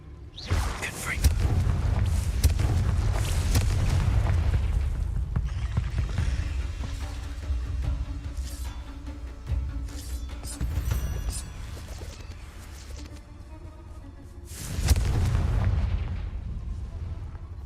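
A Confringo fire spell explodes inside a cave in the video game Hogwarts Legacy, a loud booming blast followed by rumbling debris and a second heavy burst near the end.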